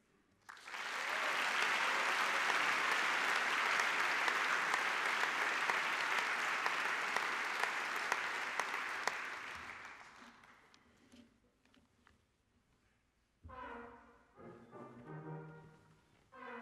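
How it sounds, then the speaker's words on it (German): A graduation ceremony audience gives a long, loud round of applause for students finishing with distinction, the clapping holding steady for about nine seconds before fading, followed by a pause and then a voice speaking. "Bitte um einen besonderen Applaus für die Studierenden, die ihr Studium mit Auszeichnung abgeschlossen haben."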